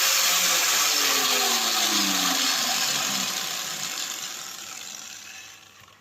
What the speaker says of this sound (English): eventually I decided to get the angle grinder on it with a thin slitting disc